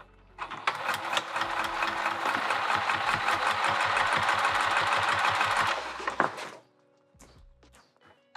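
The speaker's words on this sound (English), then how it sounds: "let's top stitch this baby" A sewing machine top-stitches a vinyl handbag in one continuous, rapid mechanical run of about six seconds, close and steady, then stops, leaving a few light clicks.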